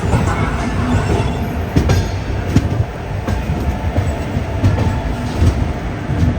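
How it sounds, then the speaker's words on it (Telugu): A Konark Express train rolls along the rails, giving a steady rumbling roar with repeated clickety-clack wheel beats and occasional sharp clanks, loud and close. "ఈ ట్రైన్ వచ్చేసి ఇప్పుడు టువర్డ్స్ సికింద్రాబాద్ వైపు వెళ్తుంది"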